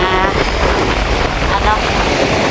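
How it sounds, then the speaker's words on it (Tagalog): Steady roar of strong wind buffeting the microphone, with ocean waves churning underneath; loud and continuous with no break. "hanggang ngayon po ay malakas pa rin po yung hangin at saka ang alon"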